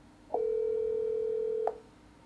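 A single steady phone tone sounds while a call is placed to a disconnected number, one clean sustained beep of about a second and a half, clear and alone over faint background hiss.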